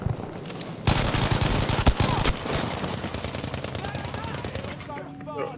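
An StG 44 assault rifle firing in Battlefield V, a long sustained burst of rapid automatic shots, loud and close, that starts abruptly and trails off amid background battle noise.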